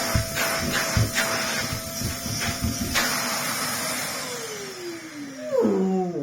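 A Henry vacuum cleaner fitted with a Vax Air motor runs with a steady, loud whine and airy rush, pulsing slightly early on, then the motor pitch sweeps down and wavers as it slows.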